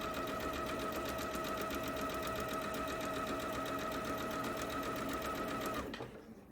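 A sewing machine stitches through quilt fabric with a fast, steady mechanical chatter up close, running evenly for several seconds before slowing to a stop near the end.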